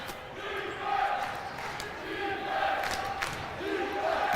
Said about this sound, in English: As defense chants ring out from the crowd